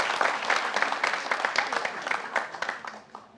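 A crowd applauds steadily, many hands clapping in a dense, lively burst that tapers off slightly toward the end.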